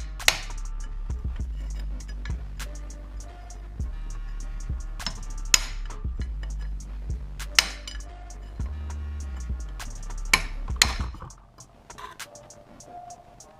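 Sharp metallic taps of a hammer striking a chisel to loosen a bolt, irregular and spaced a second or two apart, close up over a low background hum.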